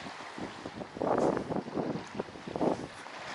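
Gusting wind buffets a sailboat sailing single-handed off the Shetland Islands in Scotland, coming in uneven surges and microphone rumbles under a low steady background, with no talk.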